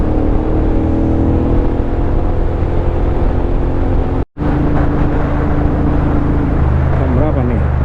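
A motorcycle on a solo tour along the Pantura route in Java accelerates in a continuous loud engine drone buffeted by wind, with a brief dropout midway.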